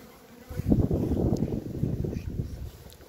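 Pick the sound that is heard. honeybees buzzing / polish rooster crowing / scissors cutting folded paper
honeybees buzzing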